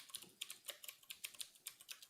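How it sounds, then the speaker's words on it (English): Typing on a computer keyboard, a quick irregular flurry of light plastic key clicks, faint and close, with no voices. "Glenn was typing."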